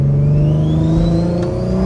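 Turbocharged Infiniti G35 coupe engine revving loudly and steadily up through the rev range, a rising whine of turbo spool layered over the engine drone, close and continuous with no talking.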